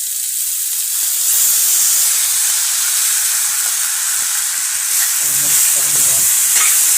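Sabudana upma mixture of soaked sago, crushed peanuts, salt and coriander stirred and frying in a kadhai, a steady loud sizzle with scraping stirs throughout and no talking.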